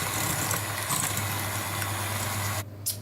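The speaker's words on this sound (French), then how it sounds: "on commence à monter le sucre et les œufs" Electric mixer whipping sugar and eggs for a génoise sponge cake, a steady close motor hum with a low droning tone that runs throughout and dips briefly near the end.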